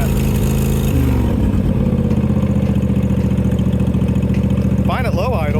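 A John Deere GT245 lawn tractor engine running loud and close at high idle, a steady throbbing drone that shifts slightly in pitch early on, with a voice speaking over it near the end.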